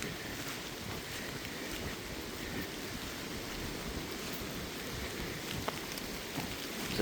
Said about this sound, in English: I'm walking against the wind and the rain